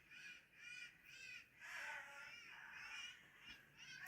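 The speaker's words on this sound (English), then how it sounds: "It's a very noisy bird." A crow calling outdoors, a run of harsh, rasping caws repeating in uneven bursts at moderate distance against quiet background noise, with no talk.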